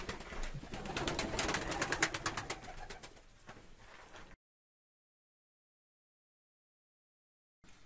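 Pigeons in a crate make a soft, continuous cooing and rustling for a few seconds, fairly close, before the sound cuts out to silence.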